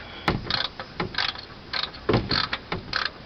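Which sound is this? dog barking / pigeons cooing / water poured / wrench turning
wrench turning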